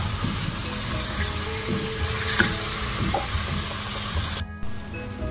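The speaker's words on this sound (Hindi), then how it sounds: "अब हम इसमें चिकन ऐड करेंगे, और हम थोड़ी सी आंच तेज़ कर देंगे और तब तक भूनेंगे जब तक इसका कलर नहीं चेंज होता" Chicken pieces sear with ginger garlic paste in a pan over raised heat, giving a low, even sizzle and soft stirring noises, quiet and continuous with a brief dropout near the end.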